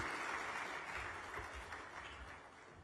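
Audience applause at a mining and minerals convention, welcoming the Deputy Minister for Lands and Natural Resources to the podium; steady, moderately loud clapping from a hall crowd that continues throughout.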